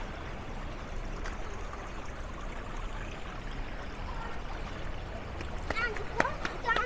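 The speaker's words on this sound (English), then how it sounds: "you can see more of the fountain just continues down here. And then trickles down all the way to the end" A civic square fountain in North Vancouver trickles steadily at close range, with a few splashy drips near the end. Faint background noise sits under the flow.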